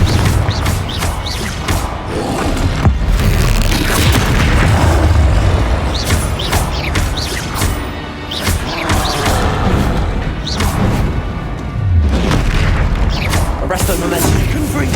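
Confringo explosive spells burst repeatedly during Hogwarts Legacy combat, loud booms and crashes layered over dense game music and effects, with a voice calling out spell names between blasts.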